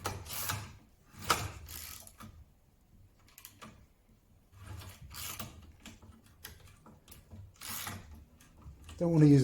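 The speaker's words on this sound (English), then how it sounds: "So these Yankee screwdrivers are great for slotted" A Yankee ratchet screwdriver drives slotted screws into a restored wooden sleigh bed, giving bursts of quick ratcheting clicks separated by pauses, close and moderately loud, with a voice speaking at times.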